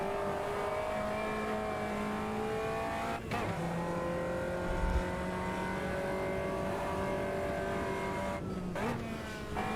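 Caterham race car in the Automobilista 2 sim racing game, its engine droning steadily at high revs with pitch shifts at two gear changes, loud and close throughout.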